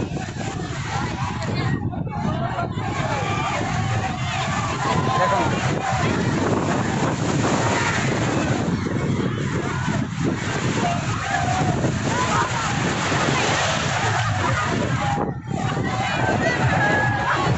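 Rushing, dangerous floodwater at a crowded village fair in Odisha makes a continuous heavy churning roar, buffeted by wind noise on the microphone, with people talking and calling out underneath.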